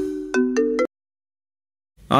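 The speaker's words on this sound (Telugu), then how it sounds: "ఏంటి ఇంత పొద్దున్నే ఫోన్ చేస్తున్నాడు?" A short electronic ringtone melody of a few tones, then silence, then another brief burst as it starts again.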